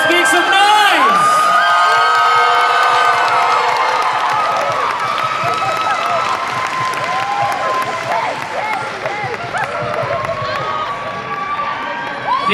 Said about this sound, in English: Let's make some noise!